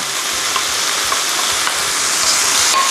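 Pork stir-frying in a hot pan as gochujang sauce goes in, a loud continuous sizzle with soft stirring scrapes throughout, no voices.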